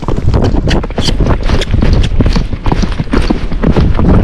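A Tennessee Walking Horse canters uphill, its hooves beating a loud, steady three-beat clip-clop close by, with wind noise underneath.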